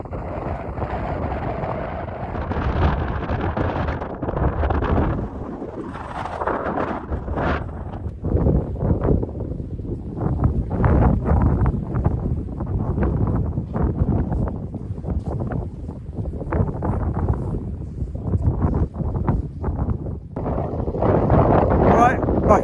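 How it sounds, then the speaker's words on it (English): Strong wind blows across a snowy mountain with deep snow, roaring and buffeting the microphone in uneven gusts. The wind swells louder toward the end. "It's really windy."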